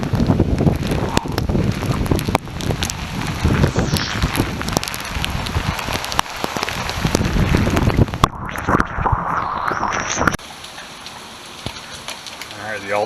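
Torrential rain downpour on an August evening during a flash flood, a loud, dense hiss of heavy rain with wind buffeting the microphone, easing to a quieter wash near the end.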